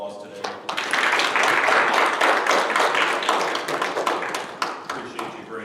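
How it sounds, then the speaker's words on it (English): Church congregation applauding the fathers during a service, sustained warm clapping from a room of people that thins out toward the end, with voices mixed in. "So let's give our dads a round of applause today."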